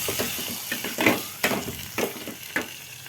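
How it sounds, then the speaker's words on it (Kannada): Tomato, onion and curry leaves frying in a pan, with a steady sizzle broken by several scraping stirs of a spatula, close and moderately loud with no voice. "ಈಗ ಅದಕ್ಕೆ ಜೊತೆ ಟೊಮೊಟೊ ಹಾಕಿ ಚೆನ್ನಾಗಿ ಫ್ರೈ ಮಾಡ್ತಾಯಿದ್ದೀನಿ"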